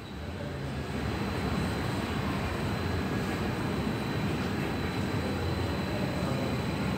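An electric train at a German railway station, on a quiet Sunday: a loud, continuous broadband rumble and roar with a steady high whine, unbroken for the whole stretch, as if passing close by.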